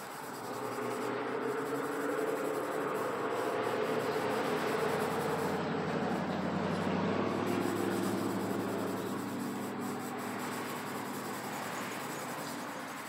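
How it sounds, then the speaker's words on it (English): Rusty steel parts being wiped down with triple-aught steel wool soaked in PB Blaster, giving a steady, close scratchy rubbing hiss that continues for the whole stretch without talk. "I'm just going to start wiping this down with this triple-aught steel wool"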